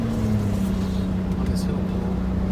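A bus engine drones low and steady as it pulls uphill after a downshift, heard from inside the cab with a constant heavy hum.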